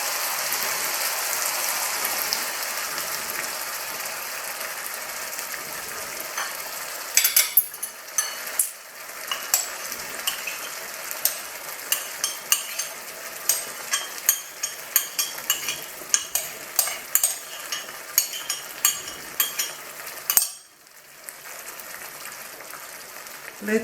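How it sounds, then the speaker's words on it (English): Coconut milk simmering with tomatoes, onions and spices in a pan, giving a steady bubbling sizzle that turns busier with scattered crackles partway through, then briefly drops out before resuming. "Let the coconut milk cook with tomatoes, onions and the spices."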